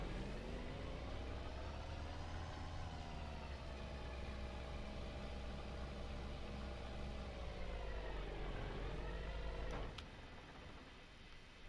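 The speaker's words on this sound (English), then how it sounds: "Man, there's a one loud truck." Loud truck engine in Farming Simulator 25, a steady droning rumble with harmonic whine that rises and dips slightly, holding strong for about ten seconds before easing off abruptly.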